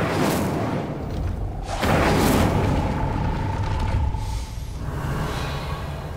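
Incendio fire spell cast in Hogwarts Legacy: a loud whooshing burst of flame with a low rumble, fading over a few seconds amid steady game ambience.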